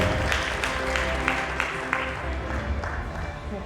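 Audience applause at a real estate excellence awards ceremony in Pune, steady dense clapping from a crowd filling the room throughout, with a few louder individual claps standing out.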